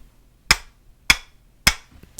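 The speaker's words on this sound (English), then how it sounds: "get a big hammer, just like this. And you just gotta go like this." A big hammer strikes three times at an even pace, each blow a sharp, close, loud crack followed by quiet, with a fainter tap right after the last one.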